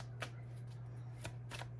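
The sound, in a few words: tarot cards being shuffled quickly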